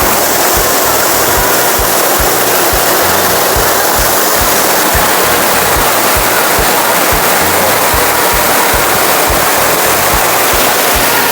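Steady rushing roar of water pouring down at Baul Falls, a small bathing waterfall in Dinadiawan, Aurora, broad and continuous up close, with faint low thumps from wind or handling and no voices.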